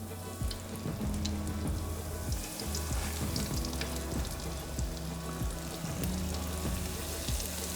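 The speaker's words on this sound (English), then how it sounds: "we're ready to put them in our frying pan" Cornmeal-crusted mussels fry in plenty of vegetable oil in a pan, giving a dense, continuous sizzle with scattered pops and crackles, close and steady throughout.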